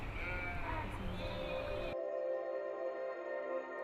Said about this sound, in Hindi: वो इन पारंपरिक रास्तों पर चलेंगे अपनी 500 भेड़ों और बकरियों के झुंड के